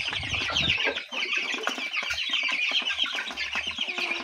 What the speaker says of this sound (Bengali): এগুলো হচ্ছে সোনালী মুরগ।